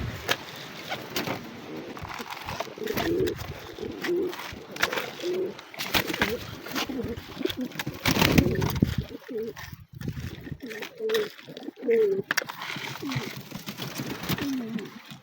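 Pigeons, including Indian fantails, cooing in a loft at feeding time, soft repeated low coos close by alongside rustling, fluttering and light splashes, with someone talking over them at times.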